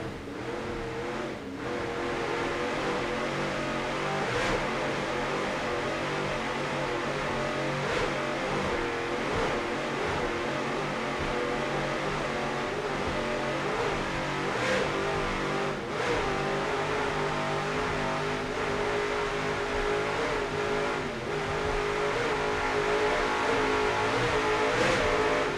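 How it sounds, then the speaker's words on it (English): A racing boat's engine roars steadily at speed, recorded on board during an APBA event at Daytona Beach in 2002, a loud, unbroken, droning motor with wind and water rush throughout. "On board, Hugh Fuller at the wheel"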